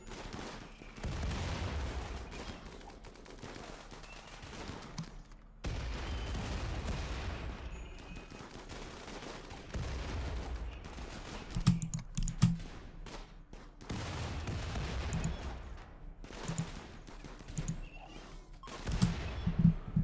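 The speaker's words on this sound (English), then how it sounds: "Who's shooting that?" Gunfire rattles through a raid in the colony-sim game RimWorld, with repeated bursts of shots and rapid clattering volleys in several separate clusters, some sharper pops standing out, fairly close and without speech.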